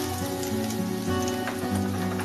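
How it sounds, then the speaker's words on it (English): Minced garlic sizzles in olive oil in a stir-fry pan, a dense, steady crackling hiss close up with no pauses. "Put a table or two of olive oil. And saute your minced garlic"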